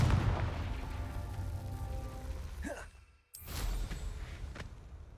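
In Hogwarts Legacy, the Confringo blasting spell fires as a sudden sharp explosive burst right after a brief hush, cutting through a steady low rumble.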